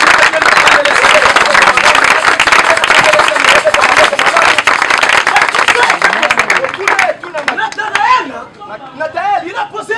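A church congregation applauds and cheers in acclaim, with loud, dense clapping mixed with crowd voices for several seconds, then breaking off into a single voice speaking alone.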